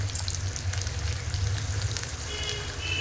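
Fish pieces fry in hot oil in a pan at home, giving a steady close crackling sizzle with faint pops and no talk.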